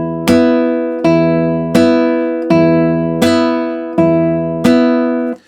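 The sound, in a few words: guitar thumb slap without muting adjacent strings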